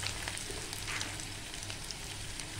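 Green chillies and ground spices fry in hot oil for an egg curry, giving a steady, close, unbroken sizzle that continues alone with no talk.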